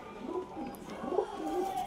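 Pigeons kept by a fancier coo softly and repeatedly in low rolling calls, somewhat faint, with a light background hiss and no voices.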